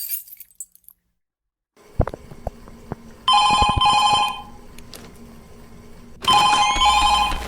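A telephone rings in a Five Nights at Freddy's fan-game on Roblox, two bright electronic ringing bursts about three seconds apart, loud and close after a short silence, with small clicks between.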